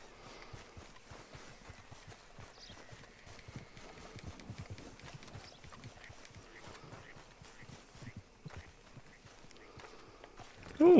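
Horse hooves clip-clopping in the Red Dead Redemption 2 video game, a steady walking rhythm of soft, close thuds under light ambience, ending in a sudden louder burst.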